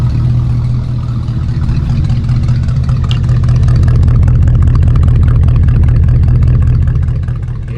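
A 1963 Ford F100 pickup sits idling nearby with a loud, steady, low rumble. Its uneven lope runs continuously through the whole stretch, and no voices are heard.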